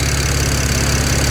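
A BMW 335i with the N54 engine, fresh injectors and coil packs fitted, idles smoothly with a loud, steady, close low rumble and an even pulsing beat, alone and without voices.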